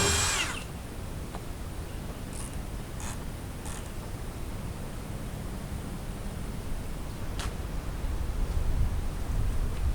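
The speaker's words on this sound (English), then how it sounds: "pre-drill my holes here" Power drill pre-drilling pilot holes for lag bolts in a large wooden fence gate, a steady whirring drone running through the whole stretch with a few brief sharper bursts on top, fairly close and uninterrupted by talk.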